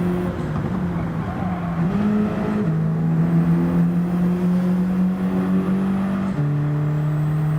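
A race car engine in the Gran Turismo 7 video game drones loudly and steadily through an online race, its pitch stepping down in clear shifts while taking a slow corner in low gear.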